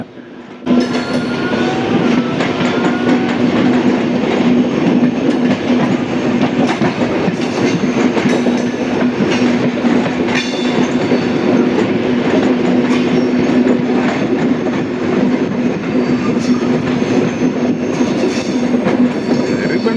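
A train rolls past loudly and continuously near Villianur station, with a steady rumble, rattling wheels and a sustained tonal hum throughout.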